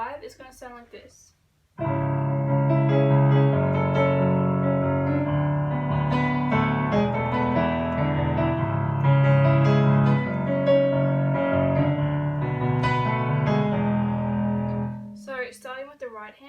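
A piano plays part 5 of the Charlie and Lola theme, a key-change passage with sustained chords and melody, loud and steady, with a voice talking briefly just before and after.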